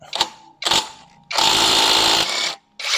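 A car wheel nut is worked loose with a power tool in short, loud whirring bursts, then one longer continuous spin, close and with no talking.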